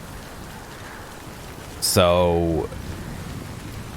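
Steady rain hiss pours down through a rainstorm in the video game Death Stranding, continuous and even, with a brief voice and tonal cue cutting in midway.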